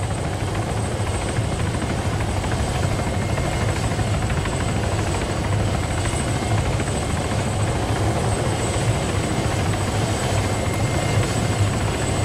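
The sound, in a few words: ADAC rescue helicopter flying in a roleplay video game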